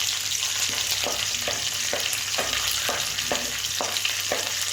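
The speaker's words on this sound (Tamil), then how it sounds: "இது கருக்காமல் நல்லா வறுத்து வச்சுக்கலாம்" Chana dal roasts in hot oil in a pan, a constant close sizzle with a spoon scraping through it in a regular rhythm about every half second.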